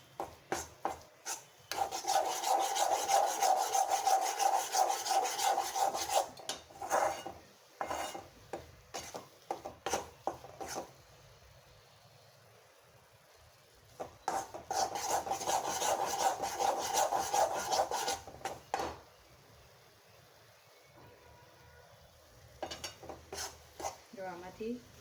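A spoon scrapes and stirs flour roasting slowly over low heat in a pan for sukhdi, making long stretches of rough, rasping rubbing broken by quiet pauses.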